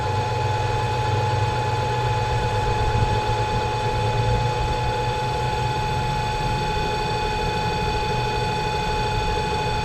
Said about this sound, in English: what they call hand operation, and I can adjust the speed of the motor